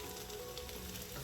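Food sizzles and fries steadily in a pan as it is stirred, a dense, continuous hiss heard close up with no talking.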